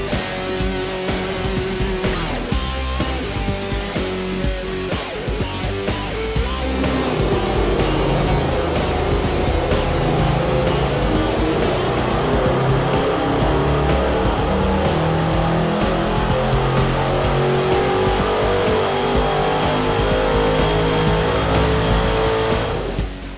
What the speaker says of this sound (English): This was our best pull of the day, and it surprised everybody in the dyno cell.